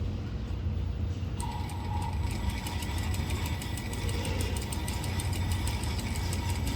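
A sewing machine stitching along the narrow gap beside a bias binding seam, its steady mechanical whirr and rapid rhythmic ticking running continuously and close, starting up after a brief quieter moment.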